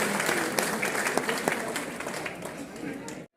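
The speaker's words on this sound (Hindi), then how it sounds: "गरजदार तालियों के साथ मुख्यमंत्री जी का स्वागत किया जाए" An audience at the Gwalior trade fair claps steadily to welcome Chief Minister Dr. Mohan Yadav, a dense, loud burst of applause with sharp individual claps that cuts off abruptly.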